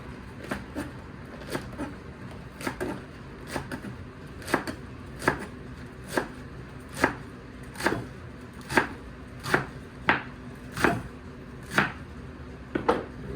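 A knife chops romaine lettuce for a simple salad in a steady, evenly spaced series of crisp, close chops, roughly twenty strokes that grow slightly firmer as they go, with no talking.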